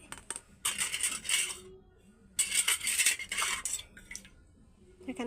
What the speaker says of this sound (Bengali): ঠাকুরের বাসন ধুয়ে নিচ্ছি